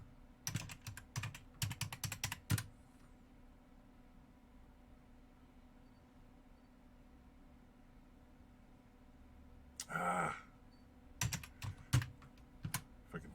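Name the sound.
typing on a computer keyboard in a terminal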